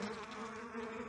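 Honeybees buzz steadily and close around a hive frame of hatched brood cells, a dense continuous drone with no talking.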